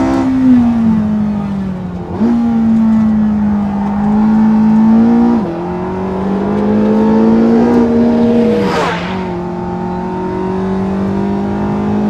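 Porsche 918 Spyder lapping a race track, its engine droning steadily close by as it is short-shifted, with a few quick rev dips at gear changes and a brief sharp whoosh near the end.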